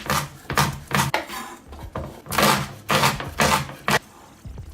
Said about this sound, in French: Je vais couper tout ça en petits morceaux tout fins.